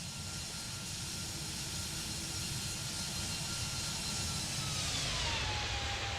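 Airbus A320neo jet flying past in the X-Plane 12 flight simulator, a loud, continuous engine roar with a whine that slowly shifts pitch as it passes, with no talking.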